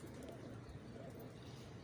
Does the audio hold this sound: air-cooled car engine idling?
no